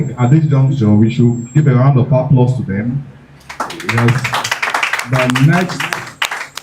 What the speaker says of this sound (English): we should give a round of applause to them